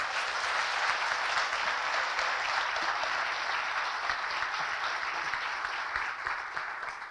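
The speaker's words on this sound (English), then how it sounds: "Let's give him a round of applause." Sustained applause from a forum audience, a dense steady wash of many hands clapping at close range that carries for several seconds and tapers slightly toward the end, with no talk over it.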